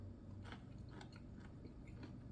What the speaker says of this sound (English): you might end up watching me eat this whole thing